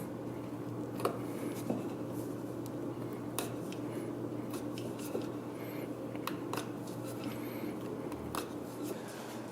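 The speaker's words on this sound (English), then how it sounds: "Go ahead and just carve this off with this little gouge here." Small gouge carving wood off a turned tool handle: faint, scattered scraping and light ticking cuts over a steady low background hum, close and quiet.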